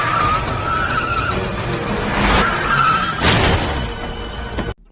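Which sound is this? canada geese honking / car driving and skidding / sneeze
car driving and skidding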